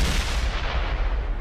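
Gunfire in a tank esports video game, a heavy continuous barrage of booming shots with deep rumble, loud and close, with no voices.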